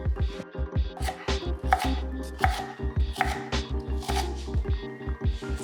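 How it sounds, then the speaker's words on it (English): A knife coarsely chops a sweet white onion on a cutting board, many quick crisp taps in an uneven rhythm, close and clear with no talking. "I'm just kind of chopping the onion coarsely here."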